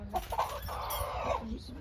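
Hens and a rooster in a home garden give soft, drawn-out clucks and a longer throaty call, fairly quiet and close, with a voice talking faintly alongside.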